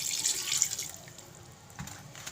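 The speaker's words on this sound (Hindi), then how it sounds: "गिलास शीशे वाला भर के मैं इसमें पानी का ऐड कर दूँगी।" A full glass of water poured into a cooking pot of meat with ginger-garlic paste and spices, a brief close splashing gush that fades into faint trickling and a soft clunk, with no voices.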